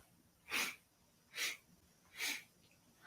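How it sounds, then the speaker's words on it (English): Three quick, sharp breaths drawn in through the nose during a breathing exercise, each a short airy rush spaced evenly about a second apart, close and quiet against a still background. "we take a deep breath in and in again and in again"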